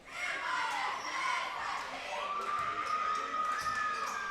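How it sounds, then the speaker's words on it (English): A high school basketball crowd keeps up a steady, loud cheer and chant in a gym during a Carencro versus Cecilia Bulldogs game, a sustained roar of many voices with a rising whistle-like tone near the end. "There's that cheer again"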